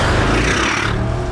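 Cars on the road outside a 2014 Bentley Continental GT V8 S, a steady broadband roar and whoosh of passing traffic, loud and close, easing off near the end.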